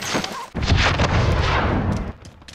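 Loud gunfire and booming explosions in the video game Warzone, a sudden heavy blast after a brief pause, followed by crackling impacts that fade toward the end.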